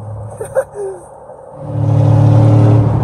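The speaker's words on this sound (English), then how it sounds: "this car is too loud" A loud car engine rises out of a quieter stretch into a steady droning rumble as the vehicle drives on, with a few brief soft noises early on before the engine swells.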